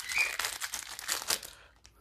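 A small plastic baggie from a board game expansion box crinkles and rustles close by for a couple of seconds, fading out at the end.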